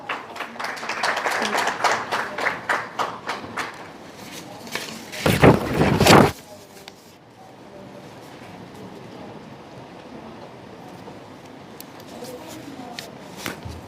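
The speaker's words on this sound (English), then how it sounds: "Please, a round of applause for her." Brief applause at a panel discussion, scattered clapping for a few seconds rising to a short burst, then fading into quiet room tone.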